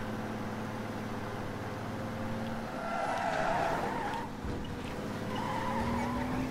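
A car in Mafia: Definitive Edition drifts and skids, engine droning with tires squealing in rising and falling bursts over a steady background music bed, moderately loud with no talking.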